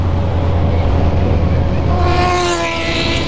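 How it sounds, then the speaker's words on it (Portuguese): A group of nearly thirty motorcycles rolls past on a street ride, a loud steady engine drone with wind buffeting the microphone, the pitch shifting upward as more bikes pass close by. "Deixa os caras passarem aqui pra você ver o tanto de moto que tem."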